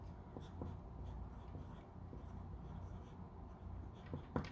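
Pencil writing on a small piece of paper, close and quiet, with soft continuous scratching strokes and a few sharper taps and scrapes at irregular moments.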